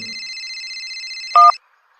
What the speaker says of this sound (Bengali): এমন সময় সোমকের ফোনটা বেজে উঠল